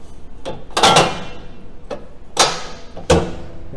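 A sandbag bagger's steel leg drops into place after its latch is rotated, giving a few sharp metallic knocks and thuds spaced across a few seconds, close by with no talk.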